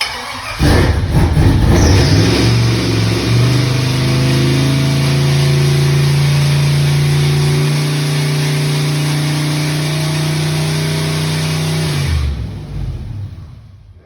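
An LS V8 engine swapped into a Chevy S10 Hombre pickup roars loudly up close, revved hard to about 5,000 RPM and held there for around ten seconds before it drops back toward idle.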